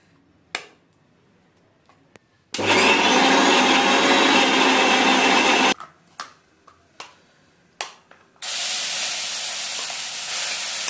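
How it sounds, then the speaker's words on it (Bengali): A kitchen mixer grinder blending cooled paneer masala spices runs in two loud whirring bursts, about three and two seconds long. Short knocks and clicks from handling the jar fall between them. "এখন মিক্সিতে পিসবো"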